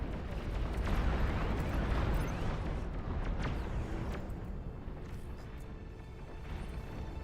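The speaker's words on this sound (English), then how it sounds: "Did you hear those explosions?" Units die in the real-time strategy game Beyond All Reason, a dense, continuous rumble of overlapping explosions and booms that stays loud throughout.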